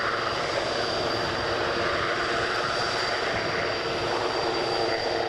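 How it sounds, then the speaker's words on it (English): A Lockheed C-5 Galaxy military transport aircraft roars steadily at an airshow, a broad continuous engine drone with no talk over it. "I just spied a C5 Galaxy there"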